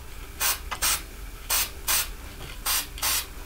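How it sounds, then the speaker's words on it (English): Spray paint hisses onto a DIY tote bag in six short bursts of about a quarter to half second each, loud and close, with brief pauses between them and no talking. "I'm gonna stand away a little bit too, because I don't want to spray myself."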